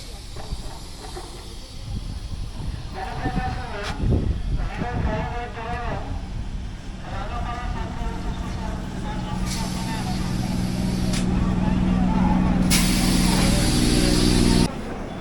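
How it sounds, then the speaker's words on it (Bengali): A local train pulls into platform 2 at Dankuni Junction, its air brakes hissing in sharp, loud bursts over the rumble of the arriving carriages, with someone talking close by under the noise. "গাইজ, 2 নম্বরে ট্রেন ঢুকে গেছে।"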